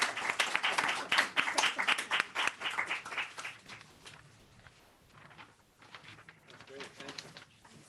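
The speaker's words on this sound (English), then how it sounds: "I'm gonna clap for you" A group applauding over a Zoom call at a hybrid poetry reading, heard as dense, loud clapping that fades into scattered claps mixed with talk.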